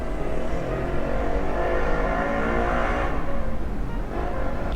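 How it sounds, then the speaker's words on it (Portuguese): Many motorcycles pass one after another, making a loud, continuous engine roar that swells and rumbles without a break and no voices. "é um monte de moto uma atrás da outra"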